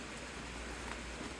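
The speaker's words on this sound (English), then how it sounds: "I'm gonna go out and brave the wind and rain" Dense, steady hiss of heavy rain driven by wind during a hurricane, constant and close throughout with no voices.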